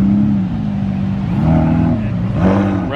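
Loud Ferrari 488 Pista supercar engine at a car show, a deep rumbling exhaust with rising and falling revs, close and continuous, with a voice speaking briefly over it.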